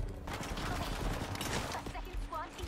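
Rapid sniper rifle shots crack through a chaotic Apex Legends firefight, dense bursts of gunfire layered with other weapons and effects, while players talk over the noise.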